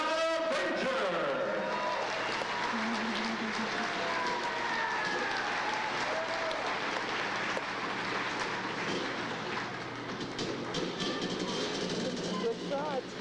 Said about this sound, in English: Ladies and gentlemen, welcome them back with your applause.